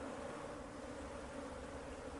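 Aggressive honeybees hum steadily around hives, a continuous close drone with no break or voices.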